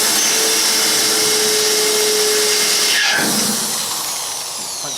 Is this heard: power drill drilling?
yes